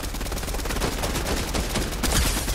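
Video game gunfire in a squad shooter: rapid, dense bursts of shots rattle on continuously and loudly, one volley running into the next.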